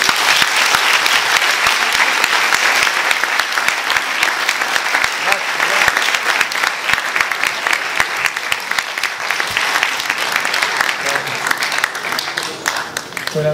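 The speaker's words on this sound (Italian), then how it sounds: "Un applauso per David Brera." An audience at a Spanish film festival screening applauds director David Brera with sustained, dense, loud clapping that holds steady for over thirteen seconds and eases slightly near the end.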